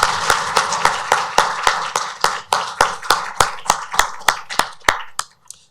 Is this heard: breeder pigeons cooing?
no